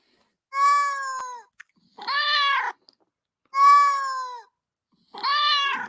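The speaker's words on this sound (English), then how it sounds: "we got the cat here. We got a cat." A cat meows four times in two pairs, each call long and drawn out, close and clear, with short silences between and no talking.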